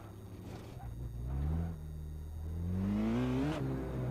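A racing car engine in a video game on the Nurburgring, shifted with paddle shifters, revving up through rising whine as it accelerates in gear, fairly quiet and steady with a climbing pitch.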